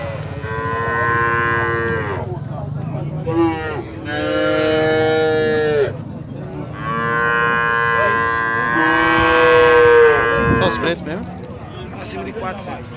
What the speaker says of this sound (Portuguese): As vacas leiteiras lá,